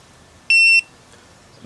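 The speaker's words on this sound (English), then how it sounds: "And there's that beeping noise." A single electronic beep from an Inkbird Mini INT-11I-B thermometer switching on, a clear high pure tone lasting about a third of a second, sounds once in an otherwise quiet room.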